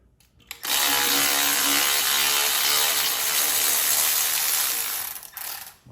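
A ratchet wrench loosens a 9/16 bolt on the horn bracket of a 2023 Harley-Davidson FLHXS, giving a steady, loud, close run of rapid clicks that lasts about five seconds and then stops.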